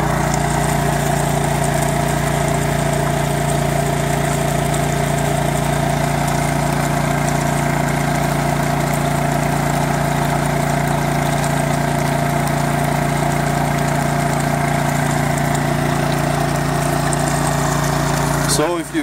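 A suitcase-style portable generator runs at a steady, loud drone the whole time at an off-grid cabin homestead, its constant hum unbroken from start to finish.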